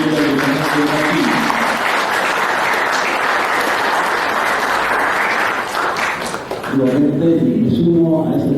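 An audience at a conference on civil and political rights applauds to welcome a speaker, a loud, sustained wash of clapping that fades near the end as voices return.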